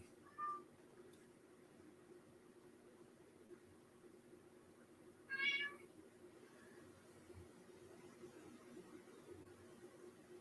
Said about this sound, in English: Yeah, we hear you, cat.